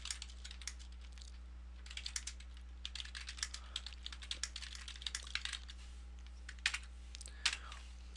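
Rapid typing on a computer keyboard, soft, close clicks in irregular bursts with brief pauses, alone and fairly quiet.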